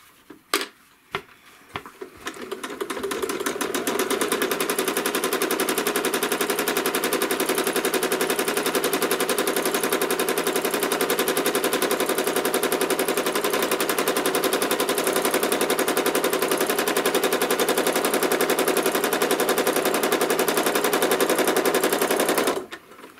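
A sewing machine runs steadily while machine quilting a fabric block, giving a close, loud, continuous rapid stitching rattle after a few sharp clicks at the start, then stopping abruptly.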